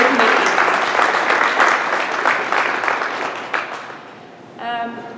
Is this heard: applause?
yes